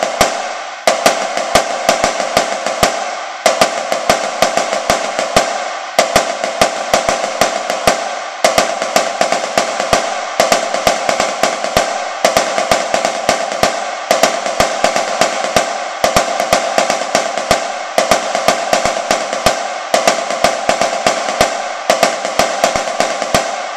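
A snare drum plays the paradiddle power cadence with accented left-hand notes, a loud, rapid, repeating pattern of crisp strokes in regular phrases that continue steadily throughout with no talking.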